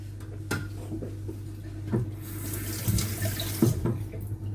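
A kitchen tap runs steadily as a spoon is wetted while making an Irish rink cake, with the flowing water continuous throughout and a few soft clinks and knocks rising over it.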